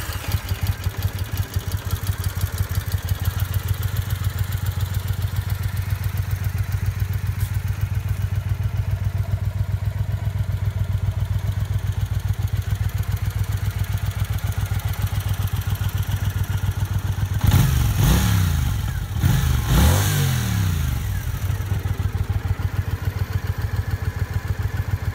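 A Triumph Bonneville America motorcycle engine runs at a steady, throbbing idle near by, then gives two or three quick revs with rising and falling pitch before settling back to idle.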